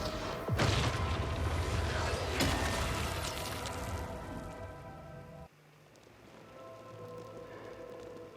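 Rain pours down during a thunderstorm in the sci-fi video game Returnal, a loud, dense hiss with deep booming rumbles early on, then dropping abruptly to a quieter, steady patter.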